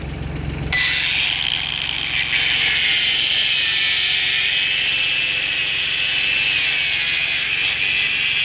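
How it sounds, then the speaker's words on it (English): Angle grinder cutting tangled chicken wire off a compact tractor's blade, a loud continuous high whine starting sharply after a brief moment and holding steady throughout, with no talking. "So I'm gonna have to get an angle grinder and cut that off."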